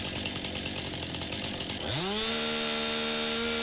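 A chainsaw in Farming Simulator bites into a tree stump, its steady raw buzz dropping into a loud, rising engine whine that holds at high pitch, close and alone with no talk.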